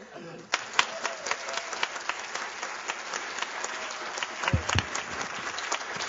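Audience applause at a human rights and free speech event, a steady spread of claps with occasional sharper ones standing out, some murmuring from the crowd underneath.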